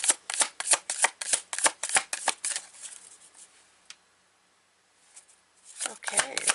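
Tarot cards being riffled and shuffled in quick, crisp bursts up close, then a pause and a card drawn from the deck with a soft snap before more shuffling starts again.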